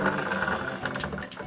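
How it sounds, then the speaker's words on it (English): Water filter housing venting pressure through a small release button, a close, steady rush and hiss of escaping water and air lasting the whole brief moment. "So it's just releasing the pressure in the system."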